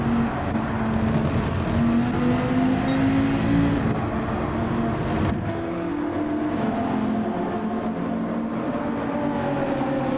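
A Dodge race car with a truck-style engine laps Suzuka in Gran Turismo 7, its loud, steady engine drone climbing in pitch, then dropping sharply after a gear change before building again.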